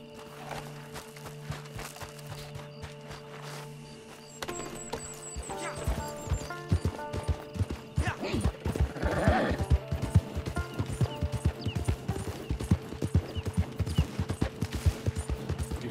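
A horse's hooves clip-clop in steady rhythm in the Red Dead Online video game, starting a few seconds in and continuing to the end, with faint game sounds and quiet talk underneath.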